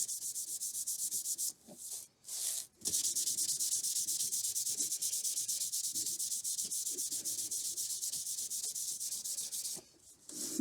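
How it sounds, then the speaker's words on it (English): Wood being sanded by hand with 400 grit sandpaper, a steady raspy rubbing at close range, with a few short pauses between strokes. "So the next step is to sand this down."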